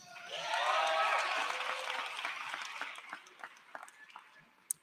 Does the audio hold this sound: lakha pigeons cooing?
no